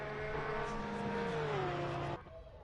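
Engine drone of GT3 Porsche race cars in Assetto Corsa Competizione at Paul Ricard, one car slipstreaming another down the pit straight, the steady tone sliding lower before cutting off abruptly near the end.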